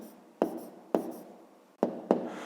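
A pen taps and scratches out numbers on paper in four quick, separate strokes, each starting with a sharp touch and trailing into a soft scrape, close and quiet.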